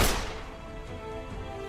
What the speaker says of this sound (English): I'm gonna start using another gunshot sound.